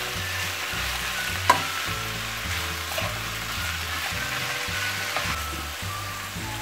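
Fresh spinach frying in a pan over high heat, a steady close sizzle running throughout with a few louder crackles and pops, no voices.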